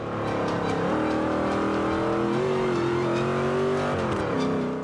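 Rolls-Royce engine in Forza 5 racing gameplay, a steady loud drone that climbs and drops in pitch as the car shifts and accelerates, with no talking.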